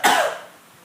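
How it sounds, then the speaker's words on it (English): A single patient cough during a sacral base examination, a short, loud, breathy burst that fades quickly into quiet. "So have the patient to cough"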